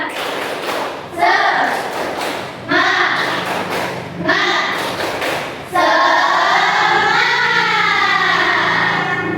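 Indonesian classroom of children doing a rhythmic tepuk semangat cheer clap, with bursts of claps and chanted voices in patterned groups, ending in a sustained loud shout together.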